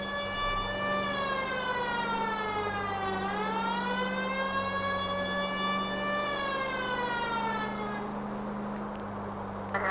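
Police car siren in the 1940s Los Angeles driving game L.A. Noire, a long wailing tone sweeping slowly down and back up over a steady engine drone, loud and continuous before fading near the end.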